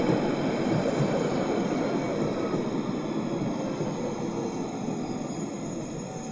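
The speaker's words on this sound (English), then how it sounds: "This is a Central Line train to Woodford." A London Underground Central line train runs between stations near Roding Valley and Woodford, a loud steady rumble of wheels and motors with high tonal whine carrying throughout.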